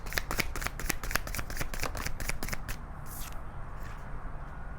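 Tarot cards being shuffled by hand, a quick run of crisp riffling snaps close up that slows and fades into quieter handling and a soft slide of cards near the end.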